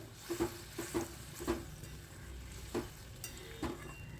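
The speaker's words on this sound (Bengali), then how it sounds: "ঝোলটা ফুটে উঠেছে এবার দিয়ে দিলাম ভেজে রাখা পনিরগুলো" Fried paneer goes into a simmering milk gravy with poppy seed and cashew paste, heard as quiet bubbling with several soft, close clinks and stirring taps spaced a second or so apart.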